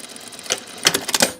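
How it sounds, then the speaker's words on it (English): Sewing machine running a 3/8-inch seam across the bottom of a dress placket, heard as short bursts of rapid mechanical clatter with brief pauses, fairly close and moderately loud. "I'm just going to sew across the bottom at"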